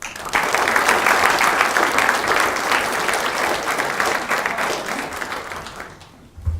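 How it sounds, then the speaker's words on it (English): High school students at Lincoln High School applaud Senator Rounds with a loud, sustained burst of clapping from a crowd that holds steady for about six seconds before fading out. "How about a round of applause?"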